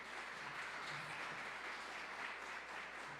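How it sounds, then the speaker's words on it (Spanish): Faint, steady applause from a church congregation, a soft continuous wash of clapping heard from a distance. "Den un aplauso al Señor por la Biblia"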